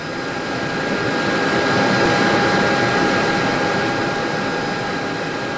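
A simulated Airbus A320 airliner jet engine, heard from behind, roars as a loud, steady broadband rush with a faint high whine running through it, unbroken and without voices.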